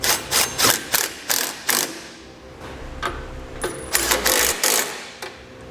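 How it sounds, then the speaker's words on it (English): A hand ratchet with a 17mm socket tightens the bolts of a crossbar-style vehicle base plate, giving repeated bursts of sharp clicking strokes up close in a steady rhythm, with no voice. "Next, we'll tighten down our hardware. These 2 bolts here are going to be 17mm socket."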